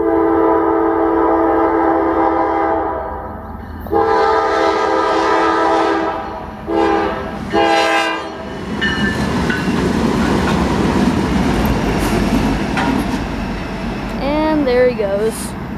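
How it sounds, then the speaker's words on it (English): Norfolk Southern locomotives 9814, 9852 and 1156, running fast without freight cars, rumble past with loud, sustained horn blasts in the first half, then a steady clatter with squealing metal near the end. "he was going pretty fast for a train without freight cars"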